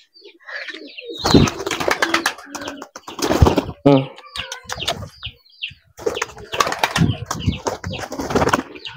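Pigeons at a market stall take off and fly, giving several loud bursts of wing flapping close by, with a brief coo between the bursts.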